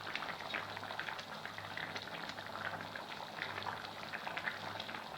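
Chicken biryani simmering under a lid in a pot, a soft, steady bubbling and faint sizzling hiss, quiet and continuous.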